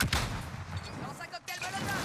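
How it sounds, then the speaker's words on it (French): In Warzone, a stun grenade goes off with a sharp bang, then a run of crackling, gunfire-like bursts follow close by, with a voice talking over the action. "Je lance une grenade paralysante."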